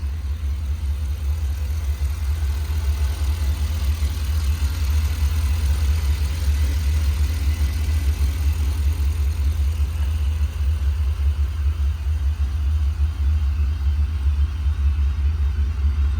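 A 2021 Ford F600 4x4 service truck with a 7.3 V8 engine runs steadily while backing up, a constant deep, loud low rumble close by with no pauses or voices.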